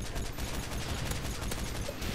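MK14 rifle gunfire in Modern Warfare 3, a dense, continuous volley of shots blending into a loud, noisy wash of game combat, no clear talk.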